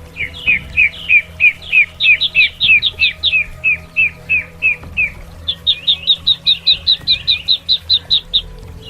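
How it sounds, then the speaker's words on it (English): A duck gives a long run of quick, high, evenly spaced peeping calls, about twenty-five in a row, steady and fairly loud over a faint background hum, with no voices. "Duck."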